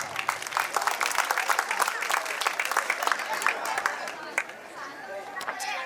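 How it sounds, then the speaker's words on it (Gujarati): Audience claps for the organizers at a grand folk music evening (lok dayro) celebrating Jalaram Bapa's birth anniversary, a burst of many hands with crisp individual claps, fading somewhat toward the end, with some voices mixed in. "એક વખત જોરદાર તાળી થઈ ગઈ આયોજક મિત્રો માટે"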